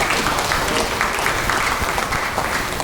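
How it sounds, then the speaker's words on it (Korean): Audience applause for a guest professor at a year-end gathering and invited lecture in Icheon, Korea: a dense, steady wash of many hands clapping, loud and continuous throughout, with no talk over it. "교수님한테 큰 박수를 부탁드리겠습니다"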